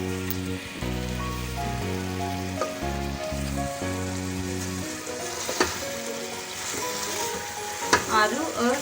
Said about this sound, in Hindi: आलू आलू काट के ये मसाले में डाल देते हैं।